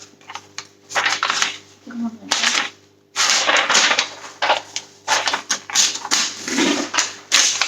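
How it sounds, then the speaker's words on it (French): Scissors cutting paper at a craft table for a scrapbook mini album, snipping in repeated bursts of crisp cuts with brief pauses and some handling rustle, close and fairly loud. "Donc, je vais le découper."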